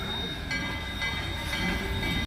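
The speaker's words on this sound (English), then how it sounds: "I just like watching the train goes by." A train rumbling past nearby at the Colorado Railroad Museum in Golden, Colorado, a heavy continuous roar with steady rolling clatter and faint metallic tones, cutting off abruptly at the end.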